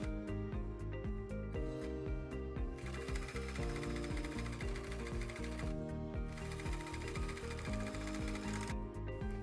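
A sewing machine stitches hoodie seams with a 0.7 cm seam allowance, running in a fast, steady mechanical clatter that pauses briefly and then starts again, close and with no talking.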